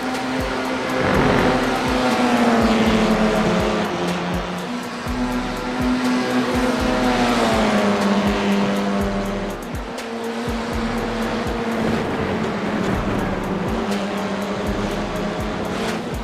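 A race car engine revs and shifts through gears, pitch rising and falling, with tire squeals and rumble over a long stretch.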